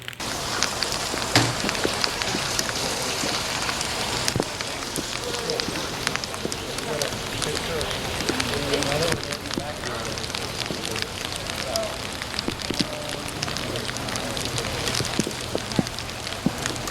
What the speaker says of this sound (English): It's actually not raining that bad, but there's nobody here